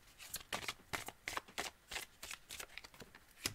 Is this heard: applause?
no